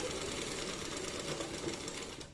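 A sewing machine runs steadily through fabric, top-stitching with a fast, even mechanical whir that holds near and loud for the whole moment before trailing off slightly at the end.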